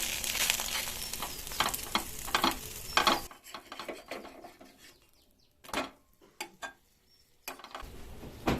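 Butter sizzling on an atta kulcha in a hot pan, a steady frying hiss for the first few seconds, then quieter with scattered clinks and scrapes of utensils.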